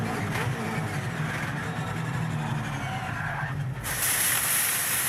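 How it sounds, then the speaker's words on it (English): Rear brakes locking on a Supercars race car at Melbourne in 2023, heard from on board as a loud skidding tire squeal over the roaring engine, with a sharp change in noise near the end. "There was a bit of rear brake locking going on there"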